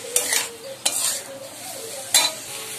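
Leafy greens (shak) fry in a pan with a little sugar added, with a steady soft sizzle broken by three sharp spatula scrapes and stirs against the metal, close up and with no talking.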